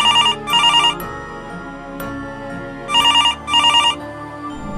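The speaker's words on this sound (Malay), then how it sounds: "telefon berdering" Telephone bell ringing in a hospital security room late at night, loud and close in two pairs of bursts with a short pause between, a ringtone repeating over a low background hum.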